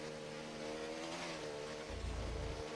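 A racing car engine in a video game race at Shanghai International Circuit revs and accelerates with a rising, whining drone, steady and prominent, with a low rumble swelling near the end.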